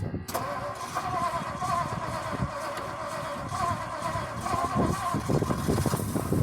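A 1959 Edsel Ranger V8 cranks briefly and catches, then settles into a steady mid-pitched idle that swells slightly toward the end, recorded close to the car with a person talking over it.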